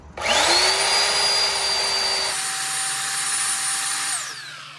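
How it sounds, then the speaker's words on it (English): A power saw, probably a small electric chainsaw, runs up to a high whine and cuts into the trunk of a thorny holly bush, holding a loud steady tone that drops in pitch mid-cut before spinning down. "I cut it up the trunk a little bit for the first cut so it doesn't fall on me"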